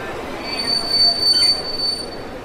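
A train brakes into a station, its wheels letting out a steady high-pitched metallic squeal over a low rumble of rolling cars, staged as a radio-drama sound effect.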